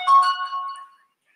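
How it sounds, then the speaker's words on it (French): A phone gives a short electronic beep, one brief ringing chime that fades quickly into silence, close and moderately loud. "C'est un téléphone qui vient de biper."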